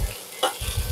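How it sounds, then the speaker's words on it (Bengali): A spoon stirs chicken stuffing with chopped coriander in a frying pan, a brief scrape over a soft, steady sizzle. "সবকিছু ভালো করে একবার নেড়ে নিচ্ছি।"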